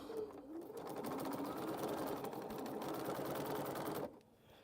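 A sewing machine runs steadily on a Halloween quilt project, a close continuous whir lasting about four seconds before stopping abruptly.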